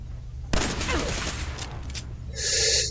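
Close gunfire erupts in Fallout 4 gameplay as a burst of rapid shots rings out for about a second and a half, followed by fainter game sounds and a tonal electronic chime.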